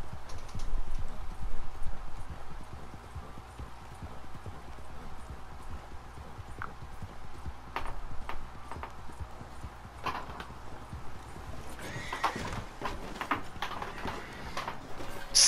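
Horse hooves clip-clop in the video game Red Dead Redemption 2, a steady run of soft footfalls under a low game background, with a few sharper clicks and bumps toward the end.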